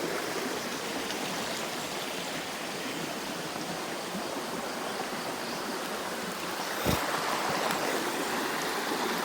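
River water flows steadily in Camarines Sur province, a constant broadband rush close by with a brief louder splash near the end and no talk.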